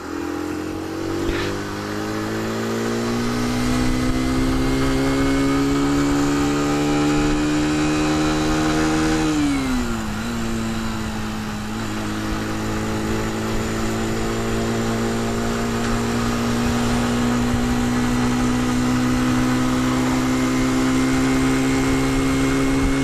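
A Sinnis Max2 125cc motorcycle engine under way, a loud steady hum that rises in pitch, dips as the rider eases off, then climbs and holds while picking up speed.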